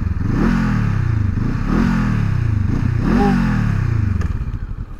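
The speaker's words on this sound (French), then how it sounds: "Je vais vous faire écouter un peu le son du pot." A Honda CL500 Scrambler's exhaust revs up and falls back in repeated throttle blips, three clear rises over a steady idle, loud and close with some mechanical clatter.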